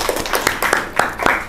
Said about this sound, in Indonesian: Tepuk tangan buat Rizky semuanya